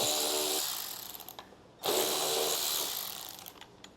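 Quarter-inch head screws being removed from under a car's air cleaner, a faint ratcheting whir from a small tool in two short runs with a sharp restart between them.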